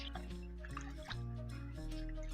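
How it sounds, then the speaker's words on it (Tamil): Toor dal being rinsed and swished in water by hand, soft liquid sloshing and dripping with small splashes, close and quiet over a faint steady hum, with no talking. "நல்லா 2-3 தண்ணி ஊற்றி அலசி எடுத்துக்கலாம்."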